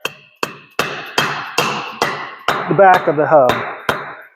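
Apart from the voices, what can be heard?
rubber hammer tapping a part in flush on hub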